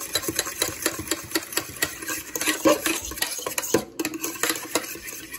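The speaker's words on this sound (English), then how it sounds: "I'm gonna mix this up." A spoon works cornstarch into sliced beef in a bowl, giving brisk, close scraping and clinking strokes in an uneven rhythm, with no talking.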